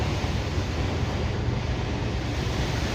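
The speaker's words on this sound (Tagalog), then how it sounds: "Ang malakas ang alon." A steady, loud roar of surging water with wind buffeting the microphone, strong ocean waves crashing nearby.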